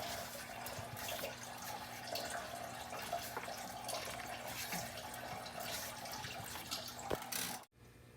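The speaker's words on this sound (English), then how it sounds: "squeeze this, because this will get all the water out. You can hear it running out." Coolant drains from a thermostat hose on an LLY Duramax diesel engine, a continuous close trickle and splash of running liquid that stops abruptly near the end.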